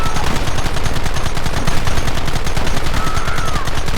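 Sustained, dense gunfire from the Western video game Red Dead Redemption, rapid overlapping shots in a steady loud barrage throughout, with no talk.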